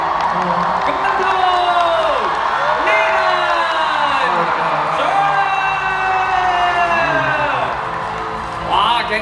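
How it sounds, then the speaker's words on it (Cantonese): A stage event crowd cheers with whoops and excited voices, sliding shouts rising and falling over a loud, continuous wash of clapping and noise. "熱烈嘅掌聲同歡呼聲"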